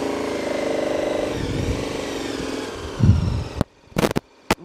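KTM Super Adventure 1290 motorcycle engine running steadily at close range, a sustained mechanical drone that rises briefly before cutting off, followed by a few short bursts near the end.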